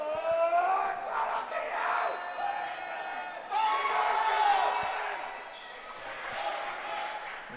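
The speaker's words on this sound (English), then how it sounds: "the Lawrence Tech crowd's still getting into it" Crowd at a Lawrence Tech college men's basketball game, a sustained roar of cheering and whooping in a gym, with ball bounces and sneaker squeaks mixed in and rising in bursts.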